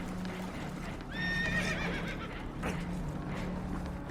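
A horse whinnies once in Red Dead Redemption 2, a rising, wavering neigh from a spooked horse on a boat taking on water, over a low steady hum and faint rustling background.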